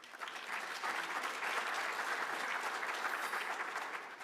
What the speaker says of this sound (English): Can you give our speaker a round of applause again?